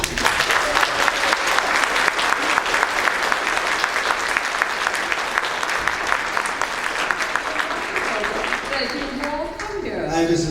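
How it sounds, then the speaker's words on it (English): Sincere audience applause for an actress at an interview event, a dense steady wash of clapping that fills the room throughout and thins slightly near the end as a voice begins. "That is a very sincere applause, very sincere."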